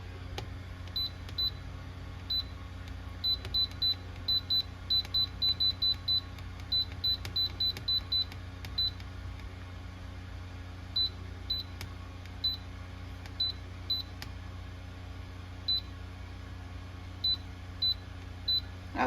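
An air fryer timer being set, giving a series of short, high electronic beeps in quick irregular bursts, some rapid runs and some spaced singles, over a low steady hum with no speech.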